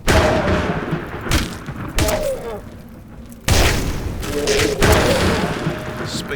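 Bombs explode in the video game Survival Beach, several heavy booms in quick succession, each a sharp burst fading into rumble, with a voice talking faintly between them.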